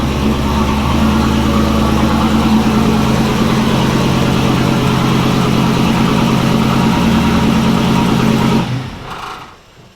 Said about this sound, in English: So let's get the Mustang pulled back in.